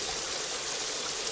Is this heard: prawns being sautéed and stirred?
no